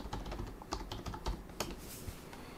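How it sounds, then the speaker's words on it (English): Rapid keystrokes on a computer keyboard as a search is entered into a web browser on a PC, a quick irregular run of close, clicky taps with no talk. "and we'll just type in speed test"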